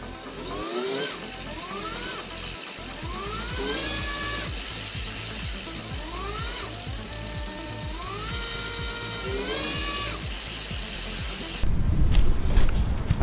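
A Tongsheng TSDZ2 mid-drive eBike motor whines as it spins up, with repeated rising gear whirs and ratcheting clicks up close, followed by a louder rushing burst at the end.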